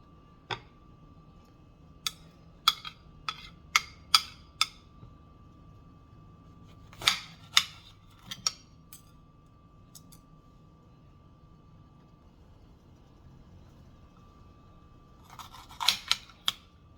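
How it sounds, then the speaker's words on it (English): A small, sharp kitchen knife finely chops vegetables for potato salad on a cutting board, giving irregular bursts of crisp, close taps and clicks separated by quiet pauses, with no talking. "See, I'm cutting them up real fine."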